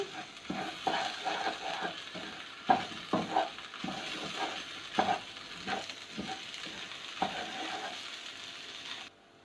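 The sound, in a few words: stirring tomato paste in a pot of sautéed lentil soup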